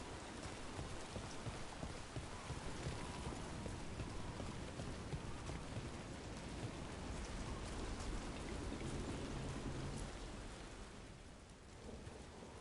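Steady heavy rain pours in a Dragon Age: The Veilguard game scene, a dense continuous hiss with low rumbling undertones, loud and close throughout, easing slightly near the end, with no voices.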